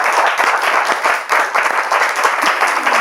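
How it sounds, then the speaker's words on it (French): Lively applause greets a correct answer in a Bible quiz game, brisk clapping from a small group, fairly close and loud, continuing steadily without speech. "On peut applaudir bien fort."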